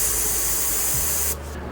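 Airbrush spraying paint through a skin texture stencil onto a custom panel, a steady close hiss of air that cuts off near the end, leaving a quieter faint hiss.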